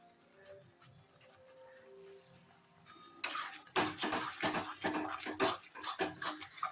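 Rui posto, rohu fish in poppy seed and cashew masala, stirred in a pan over raised heat: quiet simmer at first, then a run of loud scraping and clattering strokes of a spoon against metal, irregular and close.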